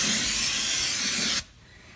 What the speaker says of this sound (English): spray it down with some brake clean